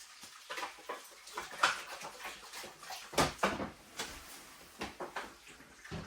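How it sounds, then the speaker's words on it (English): Water splashes and pours in short irregular bursts as potted clone plants are watered by hand indoors from a gallon supply, close and fairly soft, with quiet gaps between each pour. "So we're gonna water these up, and we're gonna use 3 gallons of water."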